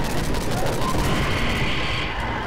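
Sustained machine gun fire in the video game Garry's Mod, a loud, dense and steady stream of rapid shots with no pauses, heavy booming low end.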